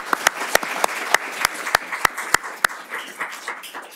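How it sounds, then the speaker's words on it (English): Sparse, scattered applause for deputies at a Los Angeles County supervisor candidates debate: a few loud, distinct claps ringing out at a steady beat over a softer patter of clapping hands, fading toward the end. "Everybody, let's give them a round of applause"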